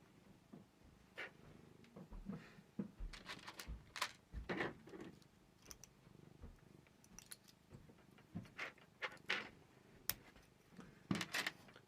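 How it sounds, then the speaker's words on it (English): A cat purrs softly while resting on a lap indoors, a low steady rumble broken by scattered faint clicks and rustles over about twelve seconds. "I'll be quiet so everyone can hear you purr, Mitten."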